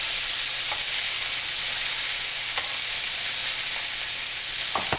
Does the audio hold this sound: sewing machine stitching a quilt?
no